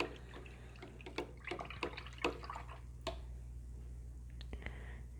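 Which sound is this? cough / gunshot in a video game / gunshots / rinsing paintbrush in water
rinsing paintbrush in water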